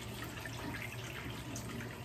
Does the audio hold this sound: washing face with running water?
yes